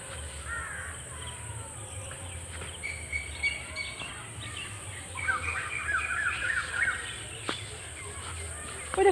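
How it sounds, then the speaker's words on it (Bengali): Birds call intermittently over a steady outdoor background, with a few sharp caws and chirps at moderate distance. "পাখি পাখি পাখি ওই দেখ পাখি"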